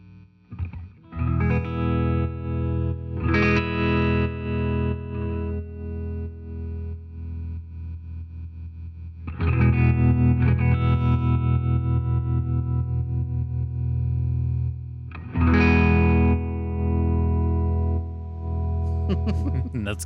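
A Tall Bird tube amp with optical tremolo and spring reverb plays a standard tremolo setting: sustained guitar chords swell and pulse in a steady wobble, three strummed chords ringing out in turn.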